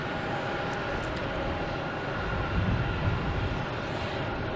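An Airbus A320neo arriving at Logan Airport from Fort Lauderdale at night produces a distant, steady jet roar with a soft broadband hiss that swells slightly midway, with no talking.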